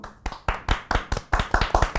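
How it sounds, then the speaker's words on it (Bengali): A group of children clap their hands for a young singer at an Eid gathering, about nine sharp claps in a fairly steady rhythm, close and loud, with no voices over them. "হাততালি দাও।"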